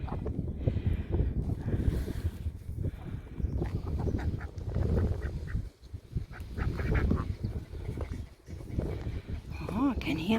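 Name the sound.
geese honking at a farm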